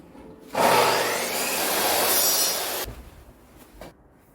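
Panels for a built-in wardrobe are cut on site with a power saw, one loud continuous cut of about two seconds, followed by a short lighter burst of work noise.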